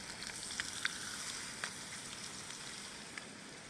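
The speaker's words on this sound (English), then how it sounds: "It seems to always rain up here." Faint, steady patter of rain in a national forest with occasional louder drops, a soft hissing wash throughout.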